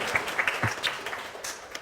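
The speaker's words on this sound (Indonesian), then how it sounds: "tepuk tangan dulu teman-teman semuanya untuk ketiga narasumber kita" An audience at a talk event applauds three panelists with brief, scattered handclaps that are fairly faint and thin out quickly.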